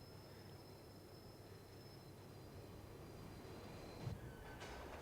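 In the video game Tom Clancy's The Division, a train arrives with a low, steady rumble of rolling carriages and a faint high whine, then a brief clank and hiss near the end.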